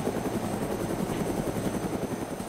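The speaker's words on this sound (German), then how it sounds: "so im Grunde fliege ich den Hubschrauber" A helicopter flies in the survival video game DayZ, its rotor throbbing in a loud, continuous thrumming drone with a steady beat and a faint high whine, heard close up with no talk.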